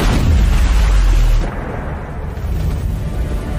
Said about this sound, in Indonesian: menjatuhkan bom kedua ke dalam struktur gua, di mana ledakan yang dihasilkan lumayan besar